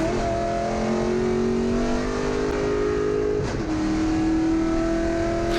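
Race car engine at Mid-Ohio in GLTC competition, a loud, steady drone near the microphone whose pitch climbs, then drops sharply at a gear shift and climbs again, with no talk over it.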